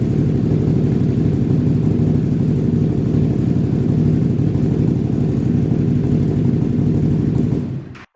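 A Can-Am engine upgraded from 850 to 1000 and running an unlocked ECM full tune idles with a steady, even low rumble that holds for several seconds, then cuts off abruptly when shut down.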